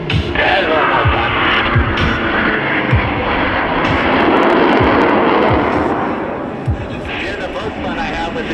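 Yak-110 jet-assisted aircraft with 6,000 pounds of thrust roaring continuously at the Pacific Airshow on the Gold Coast, loud and close, a broad steady rumble with crowd sounds and occasional voices underneath.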